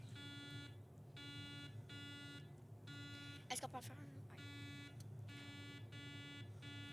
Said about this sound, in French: l'équipe de Marie-Sophie a demandé un test de buzzer.